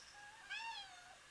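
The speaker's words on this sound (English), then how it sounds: "Sorry, that was my cat." A cat gives a single short meow, faint and somewhat distant, over a quiet room background.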